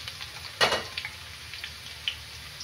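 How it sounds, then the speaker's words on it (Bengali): Onions fry in a pan for a Bengali mutton liver curry, giving a steady low sizzle with one sharp clatter near the start and a few light ticks and pops afterward. "পেঁয়াজটা আমি লাল করে ভেজে নেব।"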